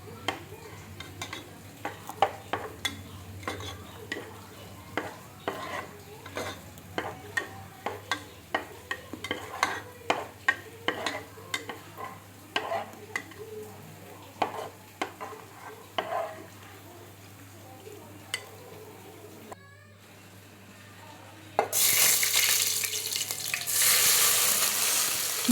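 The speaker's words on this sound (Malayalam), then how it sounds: "നമുക്ക് കാഷ്നട്ട് വറുത്ത് എണ്ണയിൽ വറുത്ത് കോരി എടുത്ത് വയ്ക്കാം" Cashew nuts fry in oil for a Thalassery dum biryani garnish, a soft sizzle under repeated clinks and scrapes of a stirring spoon against the pan, ending in a louder burst of hissing.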